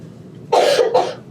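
One short, sharp cough in two quick bursts, close and clear against a quiet background.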